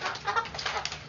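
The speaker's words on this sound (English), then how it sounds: "Don't be mean to chickens, please." A chicken clucking nearby in a lively indoor setting, a few short throaty clucks in quick irregular bursts over about a second, with no voices.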